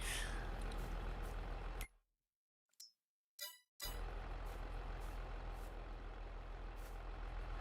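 In Farming Simulator 22, a tractor engine drones steadily and cuts out for about two seconds in the middle. Brief clanks and dings fill the gap before the engine hum returns.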